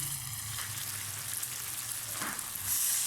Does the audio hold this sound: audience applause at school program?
no